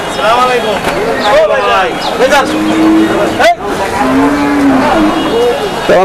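Several cattle at a busy Eid cattle market in Manikganj moo in long, drawn-out calls, one after another, with people talking in the background throughout.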